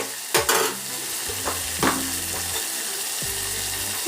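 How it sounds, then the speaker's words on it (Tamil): Tomatoes fry in an oily pan in a home kitchen, with a constant loud sizzle and a spoon scraping and stirring in short strokes throughout. "2 தக்காளி எடுத்துருக்கேன். தக்காளி போடுறேன்."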